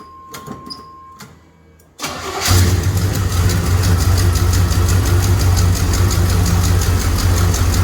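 A Vortec car engine cranks briefly and catches, then settles into a loud, steady idle close by after a few quiet seconds.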